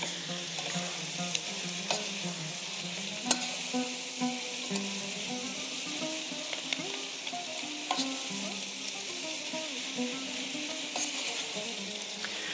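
Chard fries and is stirred in a pan, a steady close sizzle with occasional light clinks and scrapes from stirring, alone without talk.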